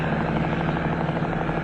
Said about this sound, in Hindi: यहाँ क्या कर रहा है आर्मी का हेलीकॉप्टर?